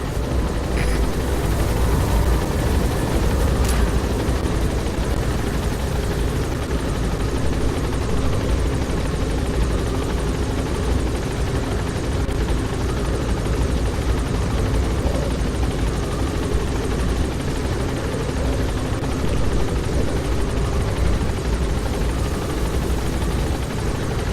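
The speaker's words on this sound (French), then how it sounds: "on descend de l'hélicoptère" A helicopter's rotor thuds and engine roar continuously at close range, loud and unbroken throughout, with no talking, in the video game Metal Gear Solid V: The Phantom Pain.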